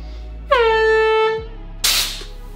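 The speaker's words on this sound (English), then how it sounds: "These guys come barreling in with nitrous and air horns" A single loud, close air horn blast sounds for nearly a second, followed by a sharp burst of hissing air, likely a nitrous purge.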